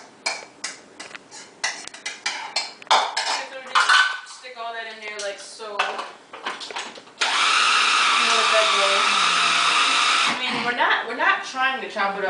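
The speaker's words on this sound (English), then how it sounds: "I'm going to stick it into my food processor here." Food processor chopping oats: scattered knocks and clatter, then a loud steady motor whir for about three seconds that stops abruptly, followed by more handling noise, with someone talking in between.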